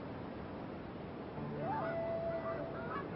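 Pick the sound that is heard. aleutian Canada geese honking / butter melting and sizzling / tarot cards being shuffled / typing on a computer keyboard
aleutian Canada geese honking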